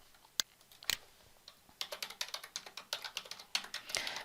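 Someone types on a computer keyboard while entering applicant details into estate agency software: a few isolated keystrokes, then a quiet, fairly rapid run of close clicking taps with no speech.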